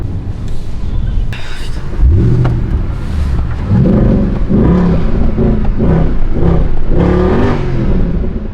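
A 2011 Mercedes C63 AMG engine, just restarted, runs steadily close by, rising in pitch as it is revved a few times over a constant rumble.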